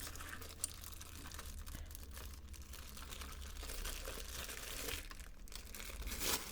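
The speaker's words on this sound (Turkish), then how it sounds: "Böyle poşetinden çıkarayım." Plastic bag crinkling while an MSI GK50Z mechanical keyboard is unpacked from its wrapping: continuous close rustling and crackling with small irregular bursts, fairly quiet and with no speech over it.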